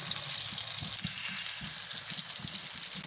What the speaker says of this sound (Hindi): फ्राई हो गए हैं, मैंने इनको तवे पर एक तरफ कर दिया है। अब दूसरे डाल रही हूँ।